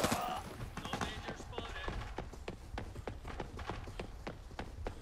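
Rapid repeated gunshots ring out in the video game Arena Breakout, a quick, fairly faint string of cracks under people talking.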